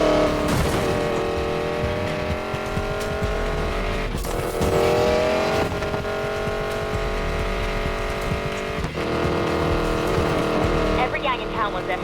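Race car prototype driven hard in Need for Speed Payback, a loud sustained engine roar with shifting revs and tire squeals, overlaid by voices talking throughout.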